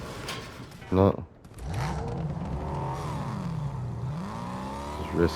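A car engine in Fortnite revs and whirs, the pitch rising and dipping in smooth swells, mid-distance and steady, while someone talks over it.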